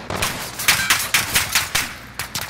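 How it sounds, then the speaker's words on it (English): Rapid, evenly spaced gunshots in Call of Duty: Modern Warfare ring out as a string of sharp cracks in short bursts, moderately loud and slightly distant. "Why are you shooting at me, man?"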